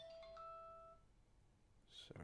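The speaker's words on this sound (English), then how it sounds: "Phone alarm going off." A phone alarm goes off indoors, a bright repeating electronic tone sounding a few times in the first second, then the room goes mostly quiet before a brief clatter near the end.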